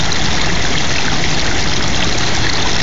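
Stream water rushes steadily past a small hand-carved four-bladed toy paddle wheel set on forked sticks, a loud, close, continuous burbling wash with no pauses.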